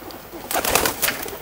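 A female pigeon flaps its wings in a short flurry of papery beats, loud and close. A few quick flaps come in a burst after a quiet start.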